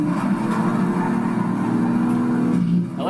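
Nissan Z Proto engine in the Project Cars 3 racing game on PS5, a steady mid-pitched drone with layered harmonics and no clear rev spikes, loud and continuous before easing off at the end.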